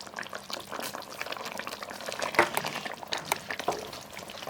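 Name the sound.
pumpkin pulusu with jaggery and tamarind simmering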